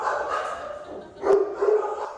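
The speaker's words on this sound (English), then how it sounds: "He's just a wonderful dog." Rockhound, an abandoned hound mix, gives a couple of close, short barks and yips, the second following about a quarter second after the first.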